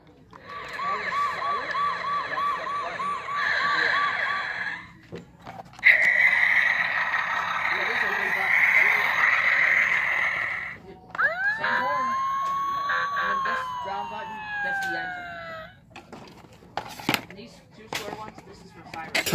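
Siren and electronic wail sounds from a Tonka Toughest Minis lights-and-sounds toy vehicle, several short bursts in a row including a warbling pattern and a rising-falling tone, fairly loud and close, with brief gaps between them.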